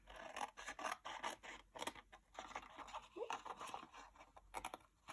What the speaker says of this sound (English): I'm just using my little snips that I've got.